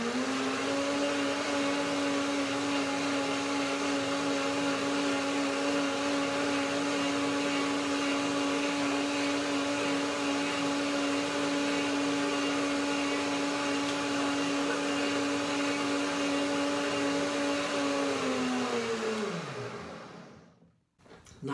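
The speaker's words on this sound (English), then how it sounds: "So I will do it again. One more blender dance." A kitchen blender whirs steadily on a parsley, chives and spring onion curd, a loud, even motor drone held for about eighteen seconds before spinning down and stopping.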